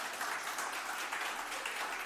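Steady applause from a church congregation during a sermon, a soft even wash of clapping at moderate distance with no voice over it.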